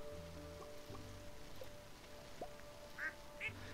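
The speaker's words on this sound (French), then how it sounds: "Ah, t'as déjà dit bonjour au canard?" A duck quacking on a farm in the video game Stardew Valley, two short quacks near the end over a soft steady ambient bed with faint game sounds.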